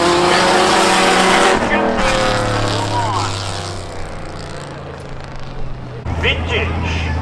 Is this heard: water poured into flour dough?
no